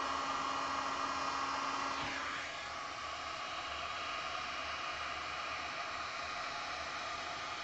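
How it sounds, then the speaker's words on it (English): A blower runs steadily on its high setting with low heat, drying a resin coaster, a broad even rush of air that holds nearly constant throughout with a slight drop partway. "Now the blower might be on high, but the heat isn't."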